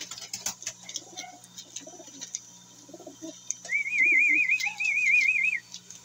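Pigeons feed while soft, low cooing murmurs repeat in the background, and a loud warbling whistle rises over them for a couple of seconds near the end, all against a steady hum.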